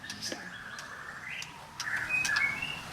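Faint whistles and chirps of a white-rumped shama songbird, a few clear notes and rising trills over soft background hiss.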